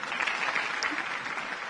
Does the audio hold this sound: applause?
yes